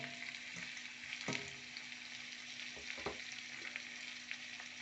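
Vegetables and crushed tomato cook gently in a pan, giving a steady soft frying hiss with a few louder stir scrapes around the second and third seconds.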